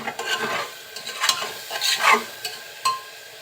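Spices being sautéed and stirred in a pan for a prawn and taro curry, close irregular spoon scrapes over a soft sizzle, no voices.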